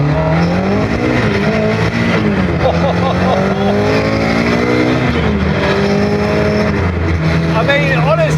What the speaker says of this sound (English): it absolutely rings through the gears